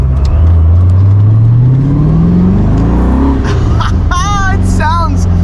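Supercharged open-top sports car engine, roughly 450 horsepower, droning loud and steady while driving, rising in pitch as it accelerates, with a voice talking over it near the end.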